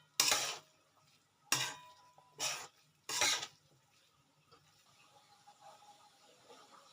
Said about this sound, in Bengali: এবার আমি খোয়া ক্ষীরটাকে এর মধ্যে দিয়ে দেবো। দিয়ে এটাকে একটুখানি নাড়াচাড়া করে নেব।